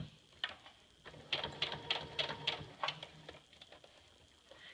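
A sewing machine stitches through a thick fabric seam on a stuff sack, giving a short run of rapid mechanical clatter with distinct ticking beats, quiet and close, with brief pauses before and after.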